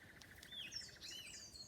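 Birds chirp in Australian bushland, quick repeated high tweets and a few brief calls, fairly faint and distant against quiet outdoor air.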